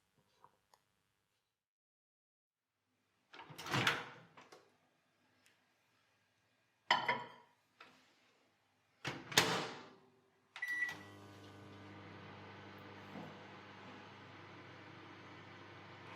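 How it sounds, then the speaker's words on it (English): Several brief clicks and knocks, then a steady low electrical hum with a faint whir that continues evenly as a microwave oven is switched on and runs. "Then put it in the microwave for 2 minutes."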